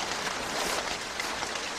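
Steady rain falls in a cold, dark Andean village, a dense, even hiss of drops that fills the whole stretch without pause and with no voices over it.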